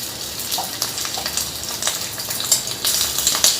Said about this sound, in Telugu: క్రిస్పీగా అయ్యే వరకు వేయించుకోవాలండి రొయ్యల్ని